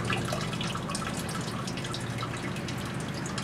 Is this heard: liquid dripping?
yes